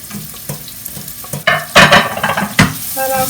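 Diced onions and garlic sizzle in a hot pan while being stirred, a steady frying hiss broken by louder scraping bursts of the spoon moving through the pan, close and clear with no talk.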